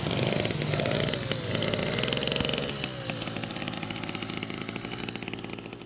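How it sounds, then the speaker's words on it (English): A pedal bicycle converted to engine power by a young mechanic apprentice in Farafenye runs its small motor with a loud, rapid buzzing drone that is close and steady, with no voices over it. "A young mechanic apprentice in Farafenye has used his talent to change a manual pedal bicycle to an engine-powered one"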